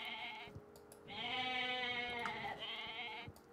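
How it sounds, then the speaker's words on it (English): Sheep in the video game Age of Mythology bleat two or three times in wavering, nasal cries, with quiet game ambience between the calls. "You get sheep."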